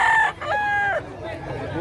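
A fighting rooster at a gamefowl and pet market in Bocaue, Bulacan gives a clear close crow in two drawn-out tonal phrases, over a low murmur of market noise and other birds.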